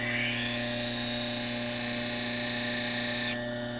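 A woodturning tool is ground on a bench grinding wheel, giving a loud, steady high-pitched grinding whine over a constant motor hum for about three seconds; the grinding stops and the wheel keeps humming.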